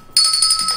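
A single bell rings out sharply and keeps sustaining with a bright, steady tone, loud and close, fading only slightly.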